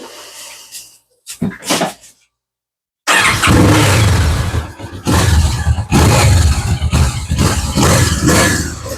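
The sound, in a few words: Kawasaki Vulcan S motorcycle factory exhaust running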